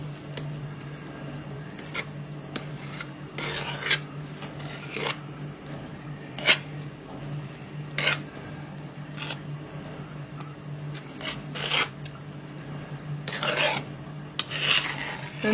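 A spatula smooths cream over a chestnut cake in a ring, giving repeated short scraping rasps in an uneven rhythm, close and fairly quiet over a low steady hum.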